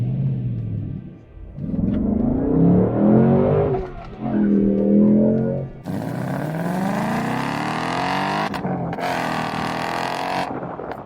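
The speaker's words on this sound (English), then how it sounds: "Yeah, the V8 still rocks. The Coyote's still awesome." A 2024 Ford Mustang GT coupe's Coyote V8 with valved exhaust revs and accelerates hard, a loud, deep rumbling roar that climbs, briefly drops off, then surges again through repeated rising pulls with no talking.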